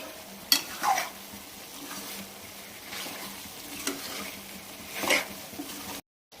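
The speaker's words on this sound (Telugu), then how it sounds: "మధ్యలో మూత తీసి కలుపుకోవాలి." Mutton curry is stirred in a pot with the lid lifted partway through cooking. A soft bubbling simmer is broken by several quiet scraping strokes of a spoon against the pot, and no one speaks.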